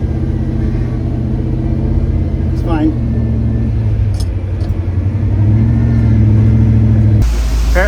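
Jeep J20 engine idling steadily and rumbling low after starting up, close and loud, with a slight rise in revs near the end and someone speaking briefly over it.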